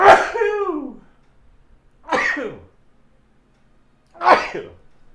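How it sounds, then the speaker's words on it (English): A person sneezes three times in a row, loud and close, each burst sharp and separated by about two seconds of near silence. "I'm gonna sneeze."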